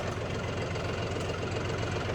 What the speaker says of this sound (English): The John Deere works pretty good for this